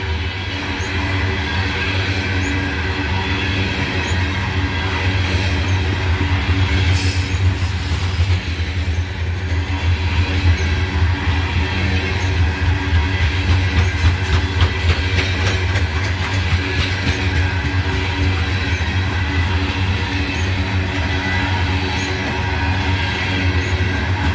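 CSX freight train of rotary dumper cars rolling past steadily for a long stretch, a loud continuous rumble with rail clatter and faint wheel squeal, no voices.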